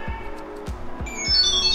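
A Tile item tracker starts ringing after Find is pressed, its bright high-pitched melody entering partway through over low repeated thumps in the background, close and moderately loud.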